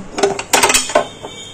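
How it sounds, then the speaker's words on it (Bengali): A metal spatula drops and clatters in a home kitchen beside a kadai on a gas stove, giving a quick cluster of sharp, ringing metallic clanks over about a second, close and loud. "খুন্তিটা পড়েই গেল।"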